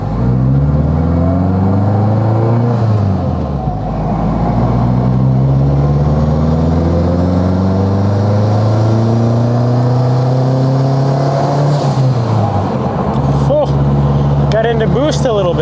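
A Honda Civic Type R engine idling with a steady low hum, then revved up in a smooth rising and falling sweep before settling, while a person talks nearby.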